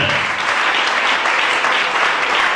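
A church congregation claps steadily and loudly, a dense, sustained wash of applause from many hands that fills the space without letup.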